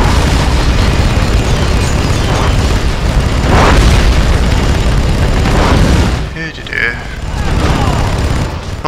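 In the Red Faction 2 video game, a fuel tank blows up amid repeated booming blasts and rumbling gunfire. The explosions come loud and close, with a brief dip near the end.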